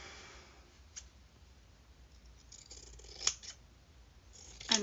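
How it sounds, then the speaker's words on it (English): Sewing scissors cutting fabric during a sewing session, quiet with a few crisp snips spaced apart, the louder ones near the end. "I think these are my sewing scissors."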